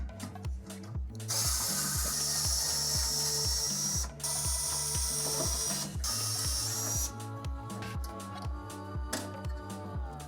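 A hand ratchet clicks rhythmically and close while backing out screws from a metal headlight bezel, with brief pauses between bursts of steady pawl clicking.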